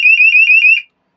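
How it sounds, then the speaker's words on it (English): A boat's high water bilge alarm, tested with its button, sounds five loud, rapid electronic beeps in a steady pulsing rhythm, then cuts off abruptly into silence. "We got a high water alarm. You can go ahead and kick that test button and blow the speakers out."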